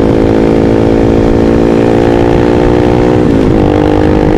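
A car with a straight-through exhaust driving through town, giving a loud, raspy, continuous engine drone close by that holds steady and then shifts pitch briefly as the throttle changes.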